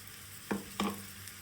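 Ground spice paste hits hot oil with fried garlic in a pan, giving a soft steady sizzle broken by two sharp scraping stirs.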